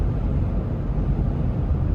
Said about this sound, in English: You can definitely hear a little bit more wind noise with this